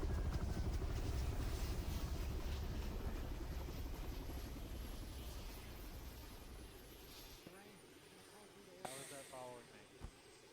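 An ArmA 3 helicopter hums and whines steadily up close, then its rotor drone fades away, with voices over radio chatter breaking in toward the end.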